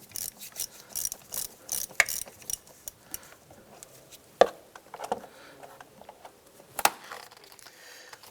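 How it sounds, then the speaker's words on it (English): A quarter-inch ratchet with a socket works a 10mm bolt on a 2007-2012 Nissan Versa exhaust manifold, giving quiet, close bursts of quick pawl clicks in irregular runs separated by short pauses, with occasional sharper metallic knocks. "we're just going to use our quarter inch ratchet here with our socket"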